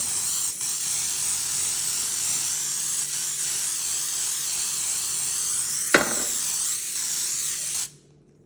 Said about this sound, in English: You grab this motherfucking spray, and this is how I like to spread it on the pan.